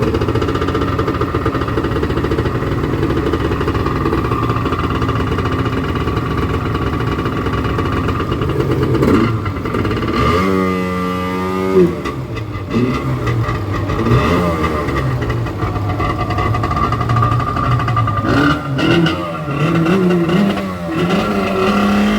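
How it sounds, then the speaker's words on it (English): Two-stroke Wave Venture jet ski engine running loud and close, revving up and down with rising and falling pitch through the middle, steady rough idle around it, no talk. "Got the Wave Venture starting."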